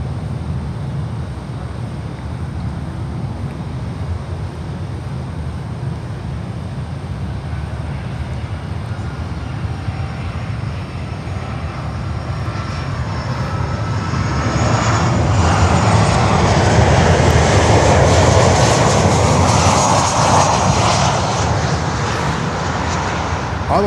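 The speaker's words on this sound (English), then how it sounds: "We have another Avianca coming in from Bogota, a 320." An Avianca Airbus A320 jet arrives from Bogota at Miami airport, its engine roar building from a distant rumble to a loud, broad whoosh as it passes nearer, then easing slightly.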